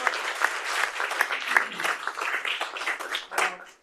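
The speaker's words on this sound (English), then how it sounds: "let's give these young ladies a round of applause" Audience applause at a city council meeting, a short, fairly close burst of clapping from a modest crowd that swells briefly and then fades out.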